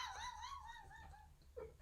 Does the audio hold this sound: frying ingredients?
no